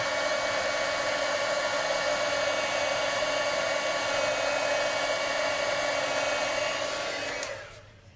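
Loud, constant whoosh of a heat tool blowing hot air nonstop onto embossing powder on paper, close by, cutting off abruptly near the end.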